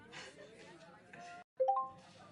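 A halfway warning ding rings out as a short tonal chime of a few bright notes, rising in pitch, heard right after a brief pause in conversation.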